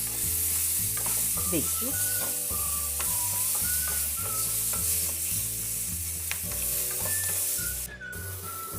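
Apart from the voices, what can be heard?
green chillies frying and sizzling in a pan on low gas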